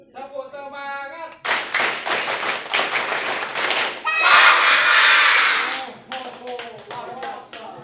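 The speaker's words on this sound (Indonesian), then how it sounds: "Tepuk semangat." A group in an Indonesian arts talk setting does a rhythmic spirit clap, a burst of fast, loud patterned claps with voices and chatter mixed in, ending in a few scattered claps.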